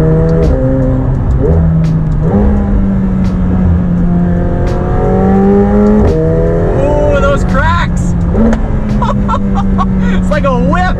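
A 2019 McLaren 720S Spider pulls hard at high speed, its engine note rising and shifting through gears, loud and close from inside the car while someone talks over it.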